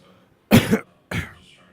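Two short coughs, close by, the first harsher and the second following about half a second later, with silence around them.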